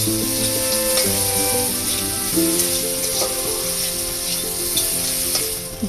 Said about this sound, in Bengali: এখন শুটকিগুলো ভালো করে ভেজে নেব।